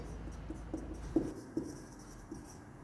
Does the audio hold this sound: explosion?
no